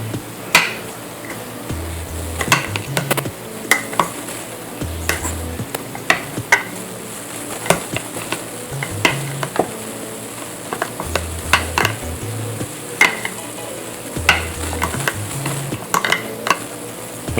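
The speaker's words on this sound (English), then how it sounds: "you're going to lightly mix it. Just going to bring all the bottom stuff from the bottom and just incorporate everything" A spoon or spatula lightly folds an ice cream mixture in a jar, producing intermittent scraping and knocking against the container over a steady background hiss, with no talking.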